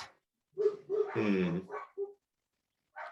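Dogs bark and whimper indoors close by, with a few yelping barks and a drawn-out whining cry in short bursts separated by silence.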